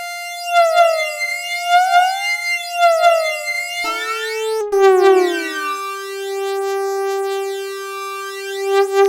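A flanger effect with heavy feedback in FL Studio 12: bright, metallic comb-filtered tones sweep up and down in repeating whooshing arcs, then settle into a sustained ringing drone. Loud and alone, with no speech.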